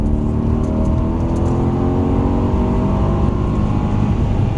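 A car accelerates at full power, its engine holding a loud, steady roar with rising harmonic lines throughout, close and continuous with no voices.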